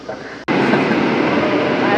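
A train runs along its track in Korea, a loud continuous rumble that cuts in abruptly after a brief dip and holds steady.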